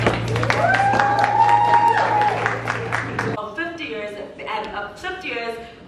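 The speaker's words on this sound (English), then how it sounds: "Please round of applause for yourself." An evening event audience gives a round of applause for themselves, clapping under a host's voice and background music at first, then thinning to a looser, quieter patter.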